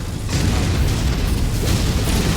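A Longbow missile strike in a mech combat video game lands as a loud, sustained roaring blast that fills the whole moment with dense, rumbling noise.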